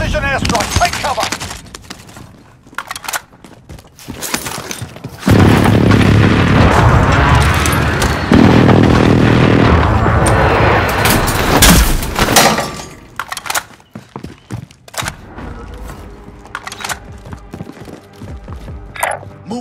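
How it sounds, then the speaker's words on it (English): Precision airstrike explosions in Call of Duty Modern Warfare: loud, heavy blasts and crashing debris land in a long burst, surrounded by sharp cracks and impacts before and after. "Enemy precision airstrike. Take cover."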